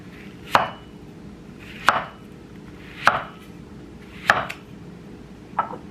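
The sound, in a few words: knife cutting up a papaya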